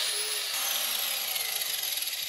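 Power tool cutting through a piece of material for a Starlink mount project, a steady high-pitched whine and grinding buzz lasting throughout, close and continuous, with no talking.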